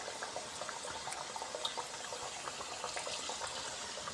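Vada and pakoda batter fry in hot oil with a continuous, fine crackling sizzle and scattered pops, moderately quiet and steady throughout, with no speech.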